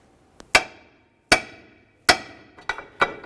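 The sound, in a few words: hammer striking control arm ball joint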